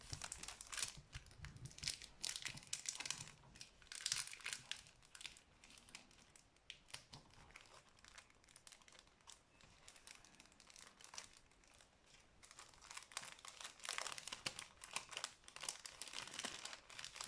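A transparent paper pouch being handled and opened, with soft crinkling and rustling in irregular bursts, close and faint, no talking.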